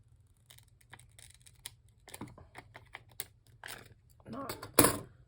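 Scissors cutting paper in half while making a rustic valentine tag, heard as a run of close snipping clicks that builds to louder cuts near the end.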